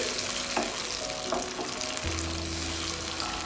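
Mixed vegetables sizzle and fry steadily on a hot tawa while being stirred, with a few scraping strokes near the start and a low hum beneath the continuous crackle.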